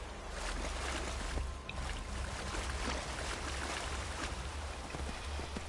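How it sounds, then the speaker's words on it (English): Steady rushing water with splashing movement as a horse wades through a stream in the video game Skyrim, a continuous wet churning that stays loud and even throughout, no voices. "Going through the water with my horse."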